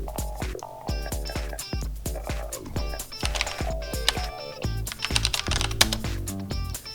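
Typing on a computer keyboard while logged into a Raspberry Pi, a close, quick run of clicky keystrokes in uneven bursts, with no talking.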